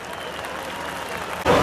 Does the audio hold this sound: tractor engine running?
no